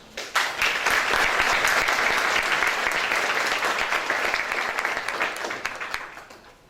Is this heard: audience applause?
yes